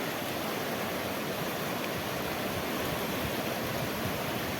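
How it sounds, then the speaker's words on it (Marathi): A swollen river in rural Konkan rushes past with a lot of water, making a steady, dense roar of flowing water that holds constant throughout with no voices. "नदीला पाणी बघा काय मोठ्या प्रमाणात आलं आहे"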